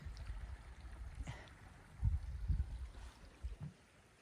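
Water flowing in a small creek beside a hiking trail: a faint, steady low wash with occasional soft burbles, heard at a quiet level from nearby.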